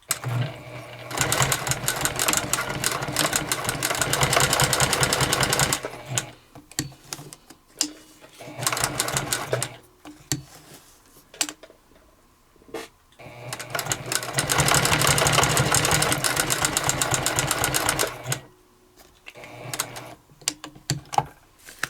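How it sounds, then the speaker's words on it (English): A sewing machine stitches a leather test piece for a notebook cover, running in two long steady bursts of rapid mechanical clatter with shorter starts and stops between, loud and close. "do everything to make sure that your machine is going to give you the best look possible on your stitching"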